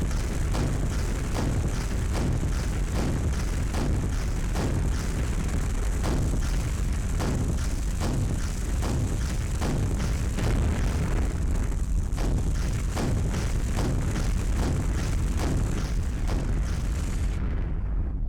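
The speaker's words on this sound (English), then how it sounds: "And now we can destroy the temporal energy converter." The temporal energy converter in the Quake game is destroyed in a long, dense run of booming explosions and crackling bursts, loud and continuous with repeated sharp hits throughout, ending abruptly.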